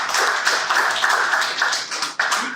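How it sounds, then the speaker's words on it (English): An audience gives a round of applause, a dense, steady patter of many hands clapping together for a few seconds. "Round of applause for each and every one of us."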